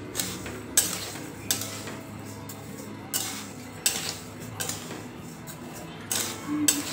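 Rice grains being dry-roasted and stirred in a pan over a low flame for chakli bhajani flour, with intermittent scraping and clinking strokes of a spoon against the pan, close and moderately loud.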